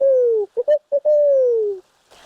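A human voice imitates the hoot of a barred owl in a run of low, hooting calls: a long sliding note, three short clipped hoots, then a second long falling note, close and clear with no other sound.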